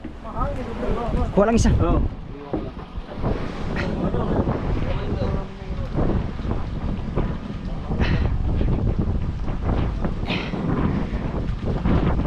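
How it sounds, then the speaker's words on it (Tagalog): Strong wind buffets the microphone at sea, a constant rushing roar with water and boat noise beneath, while people talk and shout over it. "Mahangin na mahangin."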